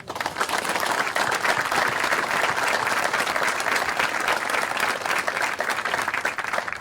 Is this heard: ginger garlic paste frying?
no